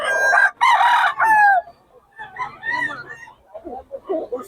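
A full stag rooster crows loudly and close by, two strong harmonic calls at the start, followed by quieter clucking and someone talking in the background.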